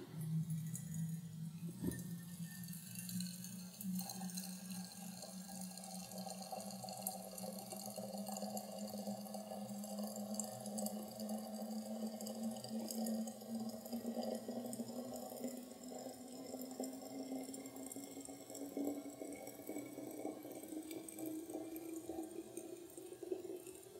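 Boiling water poured into a homemade geyser model, a steady trickling stream with a rising tone as the vessel fills, continuous and fairly quiet for over twenty seconds with no talk.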